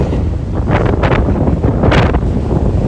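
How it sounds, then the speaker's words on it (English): Strong gusty mountain wind of about 35 to 50 mph buffets the microphone on the "M" trail above Bozeman, Montana, a loud continuous low roar with surging gusts throughout. "The gimbal just isn't strong enough to handle a 50-mile-an-hour gust of wind."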